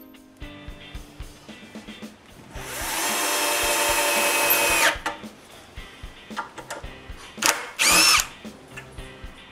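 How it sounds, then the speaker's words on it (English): A reduced-power screw gun drives brass screws into a window frame hinge in a workshop: one long, steady whirring run of about two seconds, then a short second burst, with light tapping and handling clatter between them and no voices. "I even screw them with a less powerful screw gun."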